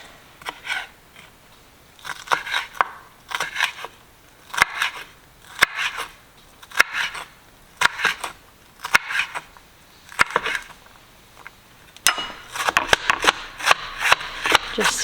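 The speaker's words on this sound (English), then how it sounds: "chopping up the peppers" Peppers being chopped with a knife on a chopping board for meatloaf: repeated bursts of quick, crisp cutting strokes in rhythmic clusters, close and fairly loud, with short pauses between runs.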